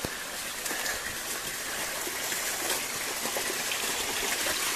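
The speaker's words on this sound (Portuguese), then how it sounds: "A cachoeirinha aqui." Small forest waterfall rushing steadily nearby, a dense continuous hiss of falling water with no break.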